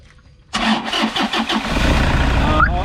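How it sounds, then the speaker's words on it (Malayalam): A Toyota Innova that has been in an accident cranks on its self-starter with a rapid rhythmic churn, then catches and settles into a loud, steady close-up idle with a brief squeak near the end. "അപ്പോൾ നമ്മളുടെ എൻജിൻ സ്റ്റാർട്ടായിട്ടുണ്ട്."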